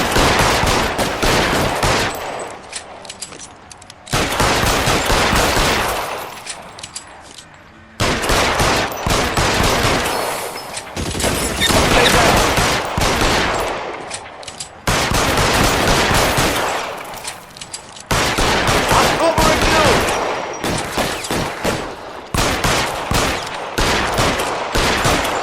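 Gunfire from the video game L.A. Noire: loud, dense bursts of rapid shots in long volleys, broken by short pauses, close and dominant with no talk over it.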